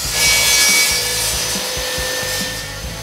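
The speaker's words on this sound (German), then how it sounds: "Mit der Tischkreissäge sägen wir nun einen Falz aus einem massiven Vierkantprofilstab raus." A table saw cuts a rebate into a solid square wooden bar, a loud close whine with a rough rasping cut that holds steady for three seconds, with no voices.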